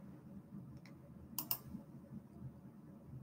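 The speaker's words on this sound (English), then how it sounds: "I'm going to click on the settings cogwheel in the top right-hand corner and click on Bokun" Mouse clicks in a website's settings menu: a quick pair of sharp, faint clicks close together, over a low steady room hum with no talking.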